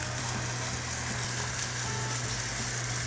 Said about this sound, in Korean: 만든 양념장 코다리 위에 끼얹어 주세요.